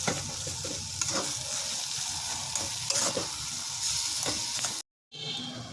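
Spiced potato filling with tomato sauce stirred in a hot pan, a constant sizzle with repeated scraping strokes of the spatula, close and full, broken by a brief dropout near the end before the frying resumes.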